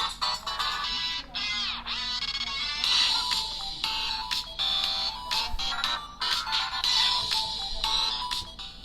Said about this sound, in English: let me show the speakers on both phones. First on the Infinix, which has a dual speakers